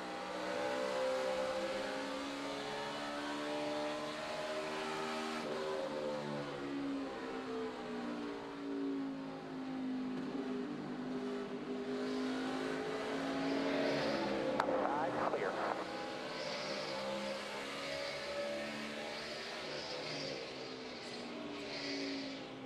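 A NASCAR Sprint Cup car engine roars steadily from on board during the 2012 Phoenix race, its pitch rising and falling through gear changes, loud and continuous throughout.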